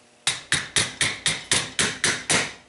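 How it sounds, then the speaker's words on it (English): Nine evenly spaced hammer blows drive a pin through duct tape during disassembly of an a300 Outlander, each a sharp close tap with a short ringing decay, in a steady rhythm with no talk. "I'm going to use my duct tape and hammer that in there"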